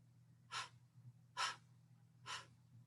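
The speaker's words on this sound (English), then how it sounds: "little sips of breath, so to speak, like taking little sips of a drink with a straw" A person breathing in small stepped sips, like drawing through a straw: three short, soft, breathy inhalations spaced about a second apart, close and quiet against a low steady hum.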